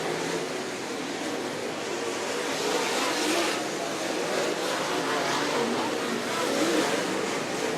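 Race cars roaring around the oval during the 2017 feature at Mt. Pleasant Speedway, a dense, steady engine wash with a roar that swells and fades, continuous throughout with a crowd-like background.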